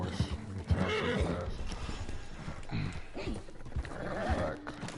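In the video game Red Dead Redemption 2, a horse gives repeated whinnies and neighs over the clip-clop of its hooves, busy and fairly close in the mix.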